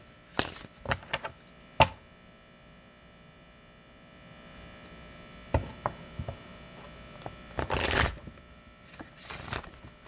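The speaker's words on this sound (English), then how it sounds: "that was a pristine shuffle, wasn't it now?" A deck of tarot cards is shuffled close by in quick riffling bursts: a flurry of crisp flicks at the start, a quieter pause, then more scattered flicks and a dense riffle, over faint steady hum.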